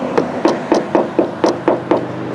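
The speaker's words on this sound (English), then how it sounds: "trying to beat this stuff out on the inside of this hose." Repeated dull knocks on a Dodge Charger's coolant hose, beating debris loose inside it: about seven blows at a steady, slightly uneven pace, close by, each a short thud with a hollow rubbery ring.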